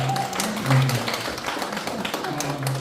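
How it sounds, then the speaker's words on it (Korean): Scattered hand claps from a small church congregation at a Korean artists' prayer meeting, sparse and close, mixed with a voice talking over them. "박수 한번 드리겠습니다."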